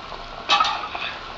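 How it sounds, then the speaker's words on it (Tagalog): Tomato and okra going into a pot of sinigang fish soup, a short clattering splash and brief sizzle-like burst midway, then a fading hiss. "So, ilalagay na natin itong mga gulay."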